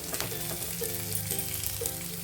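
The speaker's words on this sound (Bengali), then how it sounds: "এইভাবে ব্রাউন করে ভেজে নিতে হবে" Whole spices such as cardamom, cloves and cinnamon browning in hot oil in a kadai, with a steady close sizzle and a faint tonal hum running underneath throughout.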